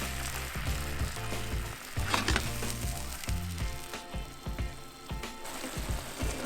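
Liquid, a corn cob stock, poured into a pan of sautéing wild mushrooms with squash blossoms, sets off a loud, steady sizzle and frying crackle that lasts throughout, with no talking.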